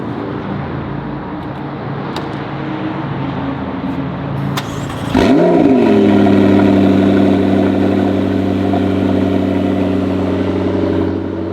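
A McLaren 650S idles with a low hum, then its engine is fired up and revved into a loud, steady drone that holds close by.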